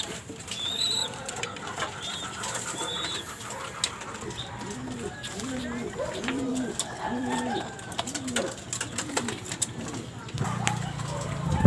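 Pigeons coo repeatedly in soft, throaty rolling phrases at a backyard pigeon loft, with flapping and faint chirps mixed in and a person talking quietly nearby.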